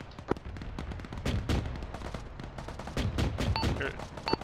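Dense gunfire in a military video game: rapid bursts of shots crackle back and forth throughout, with a few sharper single reports and loud impacts, steady and close.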